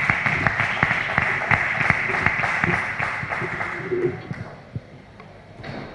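An audience claps at a livestock conference on Marismeña marsh mares, a dense spread of hand claps sounding steadily for about four seconds before thinning out and fading.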